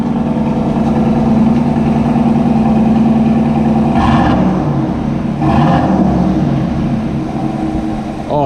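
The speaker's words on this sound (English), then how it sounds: "Rev it up, Tim." A Chevrolet Silverado with the 6.2 V8 and a Corsa exhaust idles with a deep, loud rumble close by, then rises in two quick revs before settling back down.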